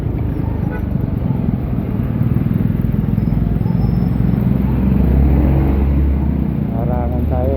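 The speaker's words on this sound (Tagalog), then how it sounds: "Traffic mga guys." Heavy road traffic on C5 is heard from inside a moving vehicle as a steady low engine and road rumble that swells slightly, with voices talking over it.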